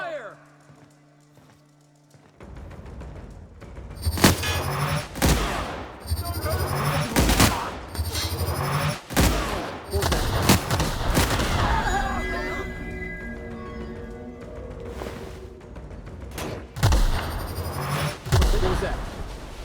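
Gunfire in a firefight in The Outer Worlds: Spacer's Choice Edition, with repeated loud sharp shots and bursts over several seconds, along with impacts and shouting voices in the fray.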